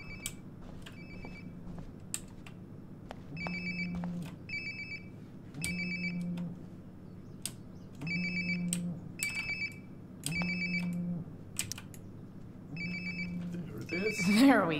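A phone ringing nearby in the video game Life Is Strange: Before The Storm, repeated electronic ring bursts at a regular rhythm, fairly loud with some background noise between rings.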